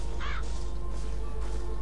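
A crow cawing in BioShock Infinite: two harsh, fairly close caws over a steady low hum of ambience.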